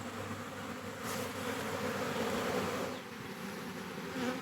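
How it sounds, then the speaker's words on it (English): A large swarm of honeybees crowded into a box and cage makes a dense, continuous buzzing drone, close and steady, with individual bees whining past now and then. "look how many bees there are in here"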